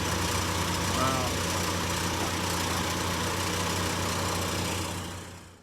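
A 2012 Chevy Equinox engine idles after a temporary exhaust leak fix, giving a steady, even hum with a low rumble that holds level and then fades at the end, with no pauses or revving.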